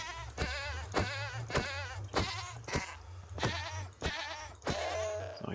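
A goat in the video game Minecraft bleats over and over, about eight loud, wavering cries in steady succession with short gaps, heard alone with no talking.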